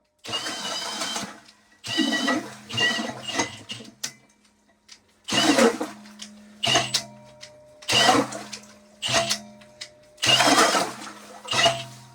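Ice auger drilling holes through thick lake ice on an ice-fishing campout, with repeated bursts of motor whine, each a few seconds long and separated by short pauses, close and fairly loud.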